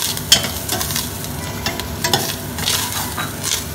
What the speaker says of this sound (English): Then I'll be adding this garlic cloves.